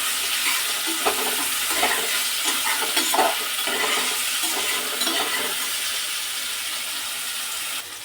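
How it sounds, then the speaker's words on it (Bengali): Pieces of bitter gourd fry in hot oil, giving a steady, close sizzle with occasional light stirring clinks throughout, and no voices. "করলাগুলো আমি তেলের মধ্যে দিয়েছি, একটুখানি ভেজে নেবো"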